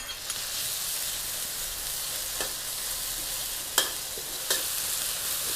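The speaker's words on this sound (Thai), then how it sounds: "น้ำมันร้อนใส่พริกกับกระเทียมค่ะ ลงไปผัดนะคะ" Chili and garlic stir-fried in hot oil in a wok, a steady loud sizzle running throughout, with a few sharp clinks of a utensil against the pan.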